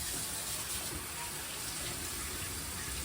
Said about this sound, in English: Just going to rinse my hands